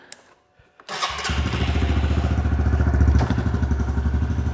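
A Honda CRF125F dirt bike engine catches after a moment of near silence and a few faint clicks. It quickly settles into a loud, steady, throbbing idle close by.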